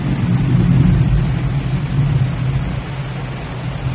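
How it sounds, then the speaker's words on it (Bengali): Heavy rain pours steadily outside, a dense, continuous hiss over a low rumble that stays loud and even throughout, with no voices. "আর বাইরে ভীষণ ঝমঝমিয়ে বৃষ্টি পড়ছে"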